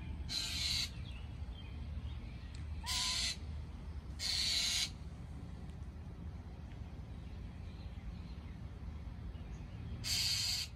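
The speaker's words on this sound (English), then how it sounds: "Woodpecker." A woodpecker gives harsh, raspy calls outdoors, heard as four short bursts spread across the stretch with quiet gaps between them, over a steady low background rumble.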